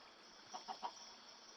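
Three short, faint clucks from chickens in a video game, spaced closely together over a steady background hiss.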